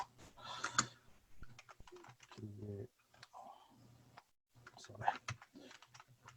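Typing on a computer keyboard: quiet, scattered clicks in short bursts, with a voice talking at moments.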